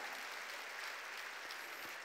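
A church congregation applauding during a Korean Sunday worship service: faint, distant, steady applause that blends into a continuous hiss.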